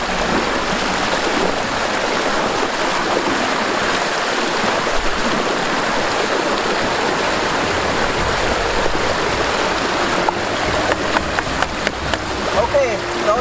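Water gushes strongly out of a pipe feeding a homemade ram pump, a steady rushing splash that continues throughout, with a few brief knocks and handling sounds toward the end.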